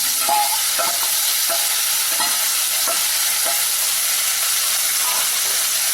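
Chicken pieces coated with a little turmeric powder frying in a hot pan, a steady broadband sizzle and hiss with scattered stirring clicks throughout, close and fairly loud, no talking.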